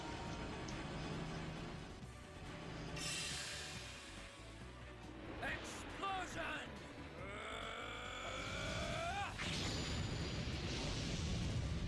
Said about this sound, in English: One more explosion.